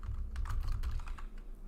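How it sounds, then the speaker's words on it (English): Typing on a computer keyboard during pre-market trading prep, rapid close clicks and key taps in a busy burst with no speech. "Here I go typing again"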